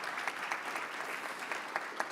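Audience applause at a Detroit Economic Club gathering welcoming students, a steady dense wash of many hands clapping at moderate distance, with a few sharper individual claps standing out.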